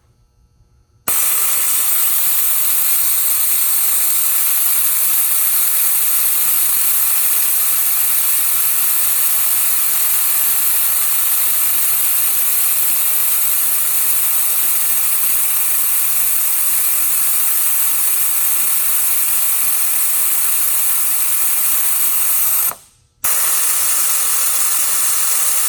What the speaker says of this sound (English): I'm going to go ahead and air these down to 8 PSI and show you what that looks like.